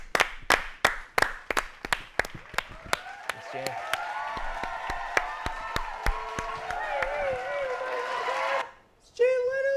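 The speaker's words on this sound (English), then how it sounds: "Big round of applause, please," Studio audience claps for Jay Leno, opening with sharp, widely spaced individual claps that quickly thicken into dense applause with some cheering, then fades as someone speaks briefly near the end.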